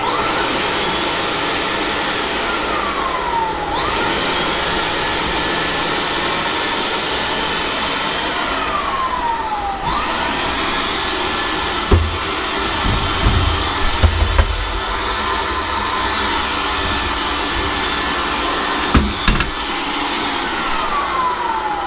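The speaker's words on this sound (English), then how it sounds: "Blower works." A steady broadband roar from the blower on a Trinco sandblasting cabinet, running continuously and fairly loud at close range with a few faint clicks and thumps over it.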